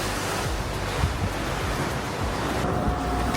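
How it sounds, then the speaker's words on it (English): Open sea water rushing and breaking alongside the cruise ship Navigator of the Seas, a loud continuous wash of surf with wind buffeting the microphone and no voices. "let's listen to the water."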